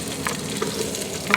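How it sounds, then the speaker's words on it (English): Onions hiss and sizzle in a hot pan at a truck campsite, a steady close frying crackle with a few small pops, no voices. "I'm gonna go ahead and add in the onions"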